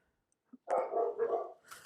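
A dog barks in a quick burst of several loud, close barks, with the noise of drilling or re-drilling work in the same spot heard just before.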